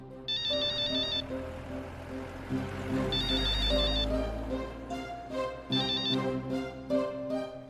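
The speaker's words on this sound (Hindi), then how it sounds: "आना, तुम फोन भी नहीं उठा रही हो।" A phone ringtone plays in repeated melodic bursts over a low hum, sounding close and moderately loud, with no one answering.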